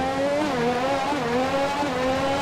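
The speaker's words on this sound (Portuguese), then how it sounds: "Vamos ver se o carro vai sair." An F1 car in the F1 2021 racing game pulls away with a high, steady engine whine that rises and dips slightly as it accelerates, loud and continuous with no voices.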